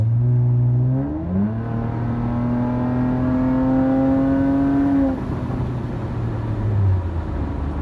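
A 2019 Toyota Avalon accelerating hard, its engine note climbing steadily and then dropping sharply at each quick gear change before rising again; loud, close and continuous, with no talk.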